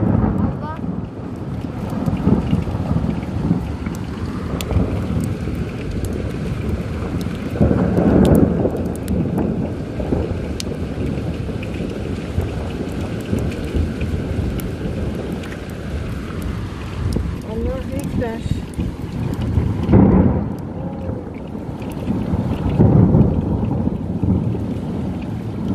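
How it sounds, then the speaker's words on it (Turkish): Thunder rolls over heavy rain in Ankara, Turkey, a steady loud wash of rainfall and wind buffeting the microphone, with deep rumbling swells rising several times, strongest near the start, middle and end. "Anlık gök gürültüsü şimşek."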